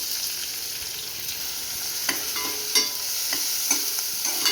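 Chopped onion frying in a hot pan with a bay leaf and kasuri methi, giving a steady close sizzle with occasional stirring scrapes and taps, no voices.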